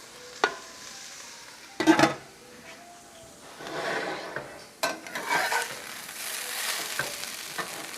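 Food for breakfast burrito bowls cooks in a pan on medium heat, a soft sizzle broken by a few sharp clinks and scrapes of a utensil stirring against the pan; no voices.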